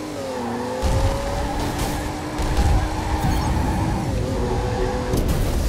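A Mustang race car in the video game Ridge Racer Unbounded, its engine whining and shifting pitch over steady road roar, with tire noise and a burst of acceleration partway through, loud and continuous.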